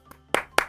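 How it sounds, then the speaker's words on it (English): A few sharp hand claps from one person, a faint soft clap followed by two louder distinct claps spaced about a quarter second apart, close and dry. "clapping just so the people that didn't want spoilers can come back to the chat."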